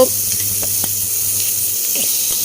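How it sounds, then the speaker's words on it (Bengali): Stir-frying in a pan: a steady, hissing sizzle runs throughout, with a few faint clicks of the spatula and a low background hum. "স্টির ফ্রাই করে নিচ্ছি"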